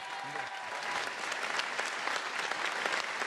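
Audience applause during a political speech by French minister Bruno Retailleau, a full steady round of clapping from a large hall, with a voice briefly over the opening moment.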